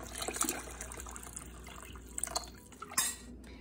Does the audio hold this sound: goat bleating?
no